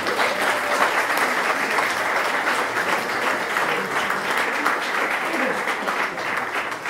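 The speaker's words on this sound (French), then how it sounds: "Vous pouvez l'applaudir déjà, c'est possible." A seated audience at a French round-table discussion on ethics and fairness in organic farming applauds, a dense, steady wash of many hands clapping that holds at an even level throughout, with no speech over it.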